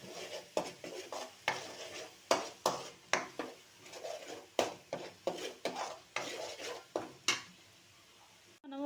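Spoon stirring turmeric into tomato paste in a pan for goru chikudu (cluster bean) curry, a steady series of scraping, clinking strokes against the pan with faint sizzling beneath, close and fairly quiet.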